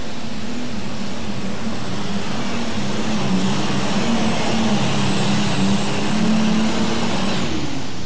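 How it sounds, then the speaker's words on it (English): An alcohol-burning pulling tractor roars at full throttle on the course at an indoor pull at Freedom Hall. The loud, steady engine drone is close and continuous throughout. "Here's our next tractor on the course."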